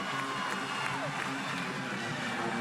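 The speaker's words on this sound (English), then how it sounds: "the pure volume of that applause, John, I think says it all" Arena crowd applauding after a vault landing at a Missouri versus LSU women's college gymnastics meet, a continuous, even wash of clapping and cheering with faint talk underneath.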